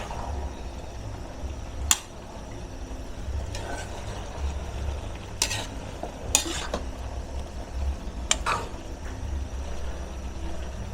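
Pancit bihon rice noodles with canton being stirred in a pan over a soft background sizzle, with a few sharp clinks and scrapes of the utensil against the pan spaced out over several seconds.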